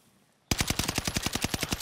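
Automatic gunfire in the video game Warzone: after a brief quiet moment, a loud, close burst of rapid, evenly spaced shots rattles on without pause until the end.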